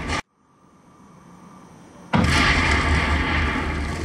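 A rifle grenade fired straight up as a mortar in Call of Duty: World at War explodes with a sudden loud boom on the Castle map, followed by a roaring, sustained rumble after a brief quiet lead-in.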